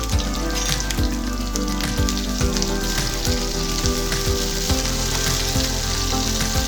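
Green chillies, onion pieces and curry leaves frying in hot oil, a steady loud crackling sizzle with popping spatters throughout, close and continuous with no talk.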